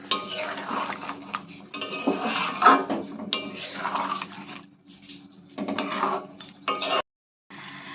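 A spoon stirs chicken korma in a metal cooking pot after sugar goes in, giving repeated scraping clinks and knocks in uneven bursts with brief pauses, close and fairly quiet, with no talking.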